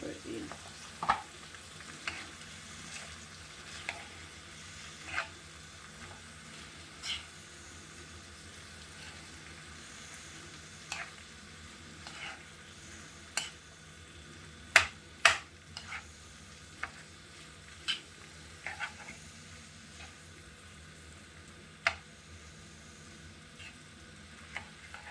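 Cooked white rice being stir-fried for chicken fried rice, a low steady sizzle under scattered sharp clicks and scrapes of a utensil against the pan, faint and fairly distant.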